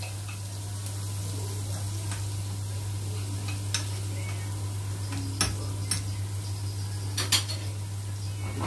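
Garlic sautéing in a pan for an Eid fatteh dish, a steady soft sizzle with a constant low hum, interrupted by several sharp clinks of a utensil scraping and stirring against the pan.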